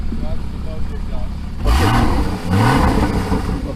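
A 2016 Porsche GT4 engine revs without its aftermarket exhaust, rising in two loud throttle blips from a steady idle with a growling mid-range tone, close by. People talk over the idle before the revs.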